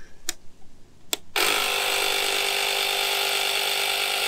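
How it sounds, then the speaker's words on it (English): A Ryobi battery pump inflating a plastic target bag: two sharp clicks, then the pump kicks on with a loud, steady, buzzing mechanical whine that runs continuously to the end. "Ryobi battery pump."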